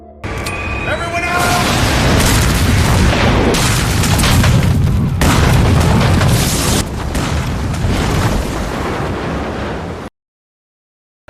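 A loud, sustained explosion in a film destroys a facility, roaring with deep rumbling and crackling debris for several seconds, then cuts abruptly to silence.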